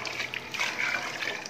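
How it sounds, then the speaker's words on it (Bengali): Water being poured into a pot of fried rice for soft khichuri, a steady quiet trickle and gush that runs through the whole moment with no talk over it. "এখন আমি পানিটা দিয়ে দিব।"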